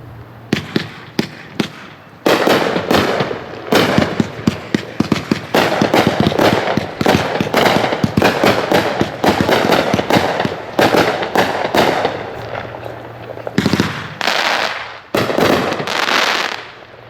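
Hot Shot 'It Is Finished' 38-shot fireworks cake firing in a backyard demo, a rapid run of loud booming bursts with brief gaps, then a final volley.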